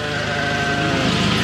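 A sheep bleats loudly and close by, one sustained wavering call, at a salt-lake farm during shearing.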